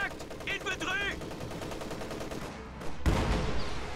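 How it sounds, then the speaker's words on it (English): High explosive barrage from a ZiS gun in a video game, rapid crackling shots and a heavy close blast near the end, with a voice speaking over the battle. "High explosive barrage from the Zis gun on an MG34 over here."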